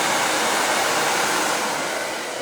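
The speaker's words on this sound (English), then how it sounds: "Cool, so now we're going to use our dryer. I'm using a sock dryer, so a soft diffuser" A hair dryer fitted with a soft sock diffuser blows steadily while drying hair into place after a modern mullet haircut, a loud, close, continuous airy whoosh with no talking.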